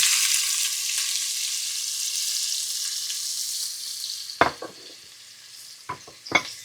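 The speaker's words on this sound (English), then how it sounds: "we're going to take the 1 medium onion, which is diced, and add it to the pan." Diced onion frying in a pan with butter for potato soup: a strong, even sizzle that slowly fades, followed near the end by a few sharp scraping stir strokes, close up and with no talk.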